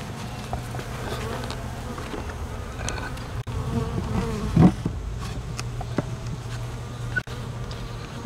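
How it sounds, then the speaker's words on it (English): Steady swarm of honeybees buzzing close by around a hive trap-out on a bee tree, a continuous droning hum with a brief louder pass midway. "collect the bees that are flying around right now"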